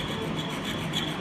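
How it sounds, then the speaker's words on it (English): A hand saw rasps through wood in a steady, close, scratchy stroke lasting about a second, alone with no voices. "Avoid sawing in this fashion."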